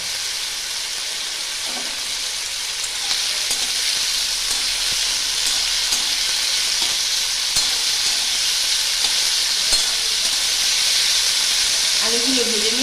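Potato pieces frying in oil with turmeric and no salt, a continuous bright sizzle and hiss holding steady the whole time, with occasional soft stirring clicks.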